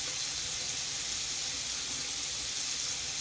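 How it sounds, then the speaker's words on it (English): Warm water runs from a tap into a sink before handwashing, a steady close hiss of flowing water with no talk. "First, let's turn the water to warm."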